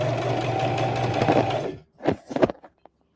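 A sewing machine stitches a Christmas stocking in a loud, steady, rapid whir for under two seconds, then stops abruptly, followed by a few scattered clicks and taps of handling.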